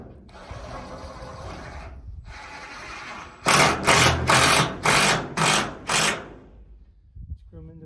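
A power driver sinks big 4-inch screws into a pole barn post: two longer whirring runs, then six short, loud, rhythmic bursts close by, ending in quiet handling noise.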